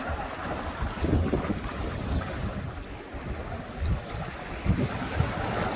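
Strong wind buffets the microphone in a continuous loud roar with gusting surges, rough and close, over what may be water nearby, while fishing at Beachey Head.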